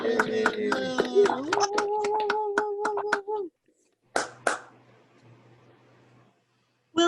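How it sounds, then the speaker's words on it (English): Virtual Rotary Club meeting participants unmuted on Zoom, a short burst of sharp separate claps mixed with cheering voices, then silence broken by a couple of isolated claps and chatter. "unmute, and let's have some sincere congratulations and applause"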